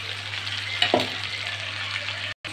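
Ground paste of green chilli, onion and coconut with garlic frying in a hot pan, a steady close sizzle with a brief louder burst as it hits the oil, no voices.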